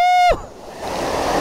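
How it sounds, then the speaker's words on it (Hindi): A short, sharp electronic-sounding tone cuts off, then a roadside monsoon waterfall at Malshej Ghat rushes in as a steady, broad wash of flowing water that grows fuller over the last second. "देखो रोड के साथ में ही बना हुआ ये वाटरफॉल"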